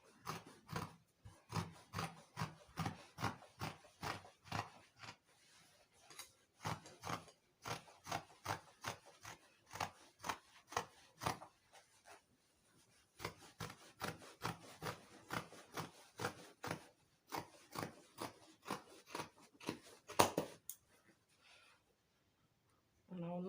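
Scissors cut through dress fabric for a short trumpet-style dress, giving rapid, regular bursts of crisp snipping strokes close by, with short pauses between runs.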